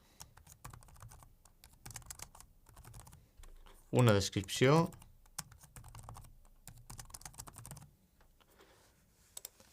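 Quick keystrokes on a computer keyboard as a collection name and description are typed, heard as a short clattering burst in the middle with a voice speaking before and after.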